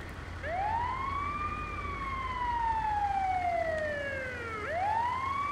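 Ambulance siren in the video game GTA, a slow wailing tone that climbs, drifts gradually down over several seconds, then rises again, steady and moderately loud over low engine rumble.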